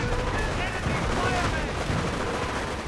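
Dense gunfire in a WWII real-time strategy game, a continuous rattle of overlapping shots and bursts from a busy battle, loud and filling the whole stretch with a voice murmuring underneath.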